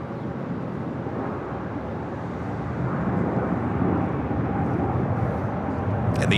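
Qantas Airbus A380 airliner turning on a taxiway at LAX, a steady broadband jet roar heard from a distance that swells slightly louder midway and holds.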